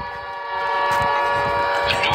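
Video game monster's siren call, a loud sustained wailing horn-like tone with layered steady pitches, swelling slightly in volume, with a voice calling out over it.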